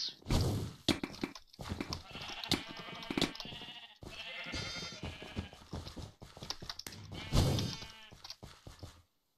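Sheep bleating in the Sheep Quest video game: repeated nasal bleats tumble over one another in quick succession, close and fairly loud, with soft thunks between them.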